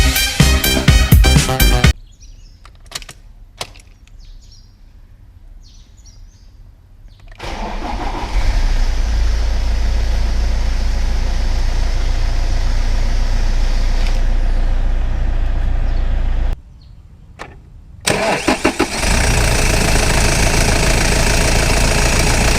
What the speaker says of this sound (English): we're going to start the van, but also keep the ignition on while the van tries to